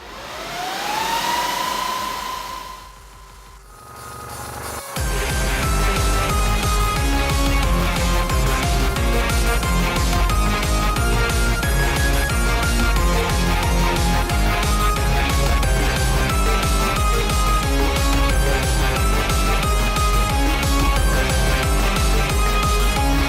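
A loud, steady server fan roar spins up during a VMware ESXi boot after a brief electronic whine and short drop, then holds constant and droning without pause.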